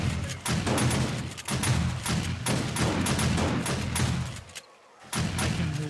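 Shotgun turrets blasting in the game 7 Days to Die, a dense, continuous fusillade of loud overlapping shots with a brief gap near the end before the firing resumes.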